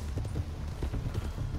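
A horse galloping in Red Dead Redemption 2 during a getaway, its hooves thudding in a steady, fast, low rhythm close by with a constant rumble beneath and no talking.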